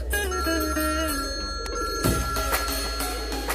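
A telephone rings with a bright, repeating electronic tone, steady and close, then cuts off into a brief rustle of background noise.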